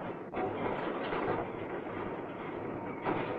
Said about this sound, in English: First on the scene is the borer train.